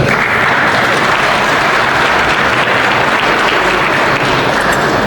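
Audience at a metro outreach luncheon applauding and cheering loudly, a dense, steady wash of clapping and cheers filling the room throughout.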